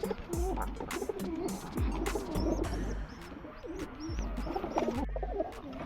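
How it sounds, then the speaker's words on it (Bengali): A pigeon close by gives repeated low, throaty coos in a bobbing rhythm. Other birds chirp faintly in the background. "পায়রার ডাকটা কিন্তু শুনতে খুব ভালো লাগে বন্ধুরা।"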